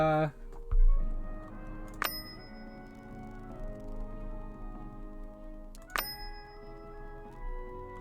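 Two bright bell-like dings are tested as a sound effect for the Super Dungeon Designer game, each a sharp metallic strike with a long ringing tail, spaced about four seconds apart, with a low background hum and a brief thump early on.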